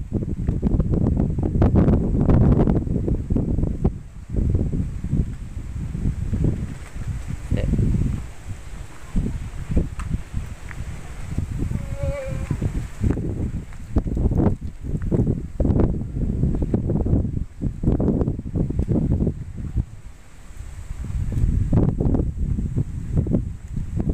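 Strong wind gusting hard against the microphone outdoors, a loud low buffeting roar that rises and falls in waves, with occasional rustling and faint background sounds, no clear talk.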